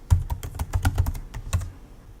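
Typing a password on a computer keyboard: a quick burst of about a dozen close, crisp key clicks in an irregular rhythm, with no talking.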